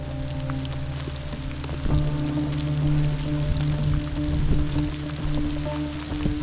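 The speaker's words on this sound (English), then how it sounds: "Oh, hail! Another hailstorm!" Hail and rain falling outdoors in the wilderness, a dense, continuous pattering close by with a low steady hum underneath, growing slightly louder partway through.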